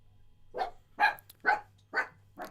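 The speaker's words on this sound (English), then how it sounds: "when you get a puppy, they just sort of tend to bark at nothing" A puppy barks five times in a steady rhythm, each yap sharp and close against a quiet room with a faint low hum.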